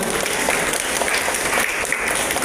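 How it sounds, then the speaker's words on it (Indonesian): Applause from an audience at a safety training session held by Pertamina's refinery with an HSSE team, dense and steady clapping filling the whole stretch at close range. "Tepuk tangan buat kita semua."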